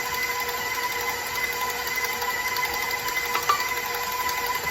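A stand mixer kneads dinner roll dough with a steady, moderately loud mechanical whir and faint rhythmic knocking that holds level throughout, with no one talking.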